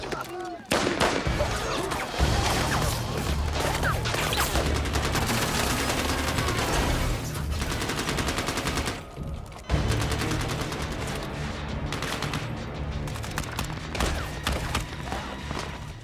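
Dense bursts of gunfire crackle through a loud action-film soundtrack, heavy and continuous, with a brief drop-out before the shooting and crashing resume.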